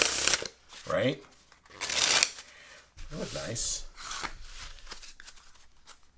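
GEMACO casino playing cards are riffled in a Pharaoh shuffle, giving several short, close bursts of crisp card rasps and riffles separated by pauses, with someone talking between them.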